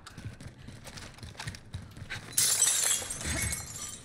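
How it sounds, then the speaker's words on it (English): Glass shattering in the Call of Duty Warzone video game, a sudden bright crash midway that rings and scatters for over a second over earlier footstep-like thumps and game noise. "Did you break glass?"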